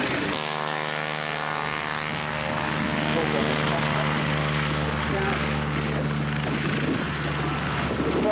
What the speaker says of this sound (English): followed by the Alouette helicopter, followed by the Scout helicopter